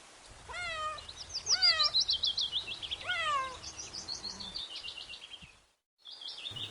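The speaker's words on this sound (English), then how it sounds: "C for cat" A cat meowing several times in a row, close and clear, with high drawn-out mewing calls, alone.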